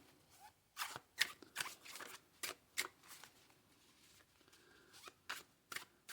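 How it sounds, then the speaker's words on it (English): A new, solid tarot deck with smooth, non-sticky cards is shuffled by hand, giving close, crisp riffling bursts in irregular quick bunches separated by brief quiet gaps, with no talking. "So they shuffle fairly well."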